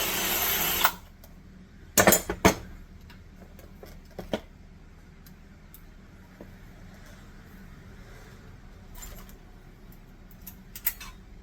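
A power drill enlarges a rivet hole on a lowrider bicycle frame in short bursts, a loud whir near the start and a couple of brief spins later, separated by quiet ticking handling noises.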